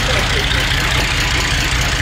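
Indian six-cylinder motorcycle engine running just after a kick start, a steady loud idle with a dense mechanical clatter throughout the short stretch.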